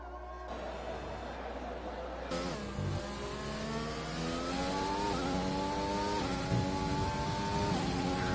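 A high-revving F1 2020 racing game car engine on a flying lap at the British round, pitch climbing through repeated gear shifts in a steady onboard whine, with commentators talking over it.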